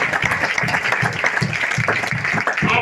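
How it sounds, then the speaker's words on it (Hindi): An audience claps steadily to welcome a woman selected for the Delhi Police at an honour ceremony, dense continuous applause filling the hall throughout. "आपको ताली मार के सब स्वागत करें।"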